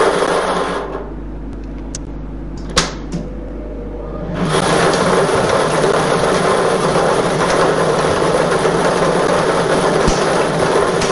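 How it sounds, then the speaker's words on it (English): Lottery draw machine mixing numbered balls in its chamber, first a faint hum with a couple of clicks, then a steady loud whirring, rattling churn of balls tumbling continuously, no voices. "The balls are released from the staging tube into the chamber. And in just a whirl, we'll have it for you."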